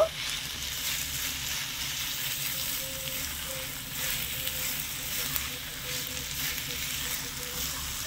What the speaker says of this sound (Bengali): ভালো করে নেড়ে ছেড়ে মিশিয়ে নেব